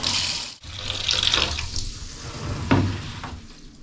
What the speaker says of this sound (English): I just use plain old tap water.